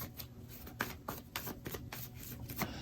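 Tarot cards shuffled and handled, a run of soft riffling rustles and sharp flicks of cards being drawn, close and quiet with no talking.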